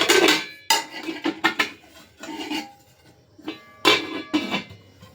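A metal kadai and its lid handled at close range, with a string of loud clanks and knocks followed by scraping, separated by short pauses.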